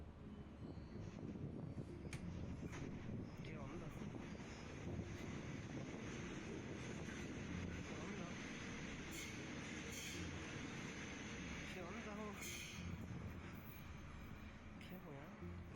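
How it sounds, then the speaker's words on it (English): Train approaching on railway tracks in South America, a steady, dense low rumble with wind buffeting the microphone and faint rattles over about sixteen seconds, heard from close by and never easing off. "According to Ricardo, the ground beneath his feet rumbled as the train came towards him on the tracks, yet no train appears."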